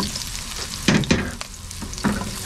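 Ginger sautéing in a hot pan for pinakbet, a steady sizzle with a few louder bursts of stirring and spatula scrapes.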